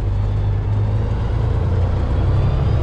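A substitute semi truck's engine drones at a steady low pitch while driving, with a faint turbo whine above it, continuous and close, with no talk over it.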